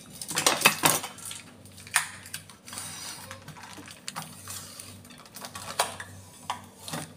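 Ceramic plates and metal cutlery clatter and clink repeatedly in a home kitchen, with sharp bursts of knocking and scraping spread across several seconds, close and fairly loud, with no talking.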